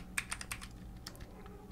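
Keys clattered on a computer keyboard while writing Android app code, a quick burst of soft close clicks followed by a few scattered keystrokes, faint and alone.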